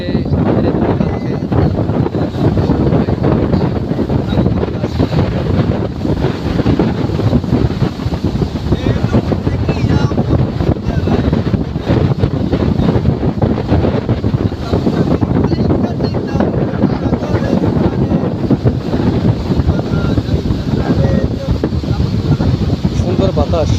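Wind blows strongly through tree leaves and branches outdoors, a loud continuous rushing roar with heavy gusty buffeting on the microphone throughout.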